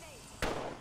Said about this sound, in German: Die werfen Granaten rein.